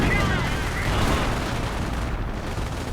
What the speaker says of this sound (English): more artillery going in towards here.